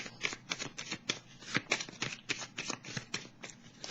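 Tarot cards are shuffled by hand in quick repeated riffling bursts, crisp papery flutters in an irregular rhythm, close and clear with no voice over them.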